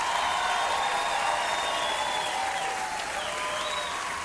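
A concert audience applauds a band, a steady, full wash of clapping with some crowd cheering that carries on without a break.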